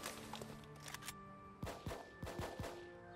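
Squad gunfire in the video game Full Spectrum Warrior, with bursts of rapid shots and sharp cracks clustered across a few seconds, fairly quiet, mixed with tonal game sounds.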